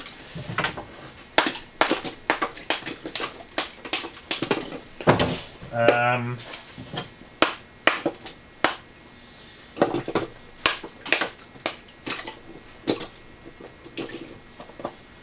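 Dry clay pieces broken up by hand for slaking, giving a series of close, crisp crunching and cracking snaps at an irregular rhythm, with someone speaking briefly in between.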